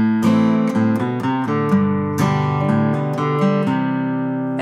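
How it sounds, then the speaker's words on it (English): A six-string acoustic guitar strummed through a sequence of chords, bright ringing strums with clear attacks, loud and close with no voices. "Before, my guitar would have sounded like this."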